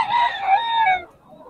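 A single rooster, one of the chickens brought for sale in Bocaue, crows once, a clear close call lasting about a second that fades into quiet.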